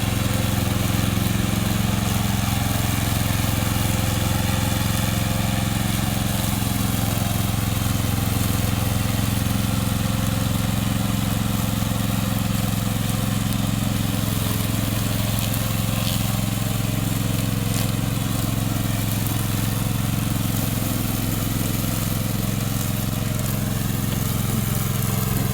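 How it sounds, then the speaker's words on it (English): A remote control lawn mower's engine runs steadily and loud for the whole stretch, a constant droning motor hum with no pauses or talk. "Today I'm going to introduce our remote control lawn mower."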